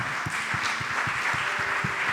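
Rhythmic group clapping from a church congregation during a Spanish-language sermon, heard at moderate distance in a steady beat of repeated claps over a soft room hum.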